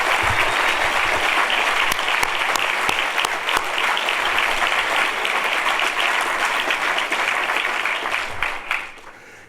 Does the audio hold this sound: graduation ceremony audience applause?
yes